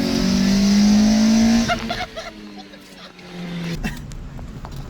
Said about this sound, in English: Engine is incredibly smooth.